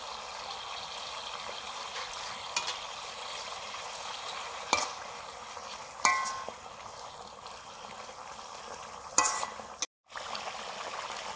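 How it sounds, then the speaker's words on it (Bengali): Parshe fish simmering and sizzling in a pan with a little water, a steady close bubbling hiss with a few brief clinks and a momentary cut near the end. "অল্প একটু জল দিচ্ছি, মাছগুলো দিয়ে দিলাম"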